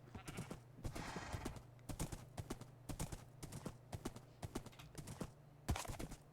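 Hooves of a saddled horse being ridden in Minecraft, a quick uneven clip-clop of many hoof strikes, soft and close, running steadily with no talking.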